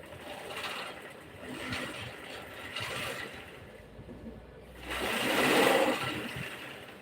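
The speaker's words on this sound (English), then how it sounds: "So I'll stitch it to this point." A sewing machine stitching a garment from the armhole, a steady close mechanical whirring hum with a faint rattling rhythm that swells louder near the end.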